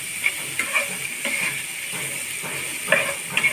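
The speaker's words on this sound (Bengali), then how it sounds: "পেঁয়াজ রসুন বাটাটা আমি একটু লাল লাল করে ভেজে নেব" Onion and garlic paste sizzles steadily in a hot pan, with a few brief stirring scrapes and small crackling bursts rising over a constant hiss, close and moderately loud, no talking.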